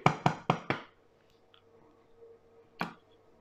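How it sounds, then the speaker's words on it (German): Four quick, sharp knocks in a row as sugar is tapped down inside a Thermomix, followed by near silence and then one more single knock, close and crisp. "Ich klopfe den Zucker jetzt etwas nach unten."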